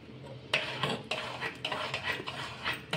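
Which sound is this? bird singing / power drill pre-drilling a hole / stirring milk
stirring milk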